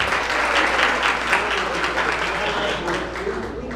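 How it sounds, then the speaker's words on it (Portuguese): An audience at a birthday party and book launch applauds, a dense, steady wash of many hands clapping that carries on for several seconds at close range. "Salva de palmas para o Davi."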